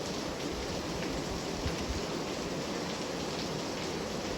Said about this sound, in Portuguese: Aquela chuva forte mesmo.